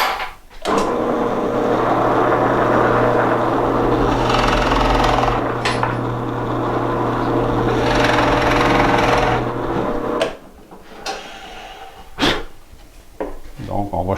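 A drill bores progressively into a large-diameter hole, with a loud, sustained grinding whine for about ten seconds before it winds down, followed by a few sharp knocks and handling sounds. Someone speaks over the drilling.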